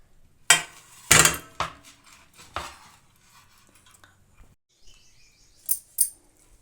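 Hot, two-sided pan-fried fish lifted onto a plate after the gas is switched off, heard as several sharp metallic scrapes and clinks of a utensil against pan and plate, separated by quiet pauses.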